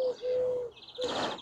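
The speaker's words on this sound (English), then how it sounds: "it's a riot of bird song." Birds sing in a small English cottage garden in the early morning, with clear close whistled notes and chirps, one sustained tone repeating, and no voices.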